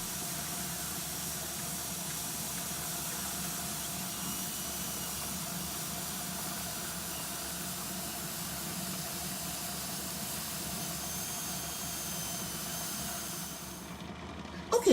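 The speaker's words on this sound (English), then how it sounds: "after 10 solid minutes of that little spigot there whistling steam" Steady, continuous steam hiss venting from the spigot of a pressure canner holding homemade chicken vegetable soup. It holds constant for about fourteen seconds, with a sudden bump at the very end and no talking.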